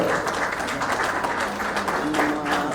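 A crowd of wedding guests applauds, a dense and steady patter of clapping with some chatter mixed in.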